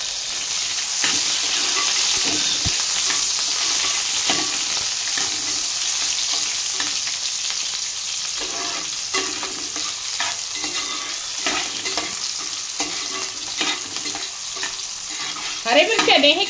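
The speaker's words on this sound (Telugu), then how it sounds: "ఇందులోనే కరివేపాకు వేసి ఇదిగోండి ఉల్లిపాయ ముక్కలు" Curry leaves and onion pieces fry in hot oil for a red amaranth and potato curry, giving a loud, steady sizzle throughout, with a few louder stirring clatters near the end.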